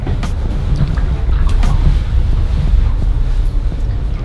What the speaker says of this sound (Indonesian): Aku dengar suara air di sini.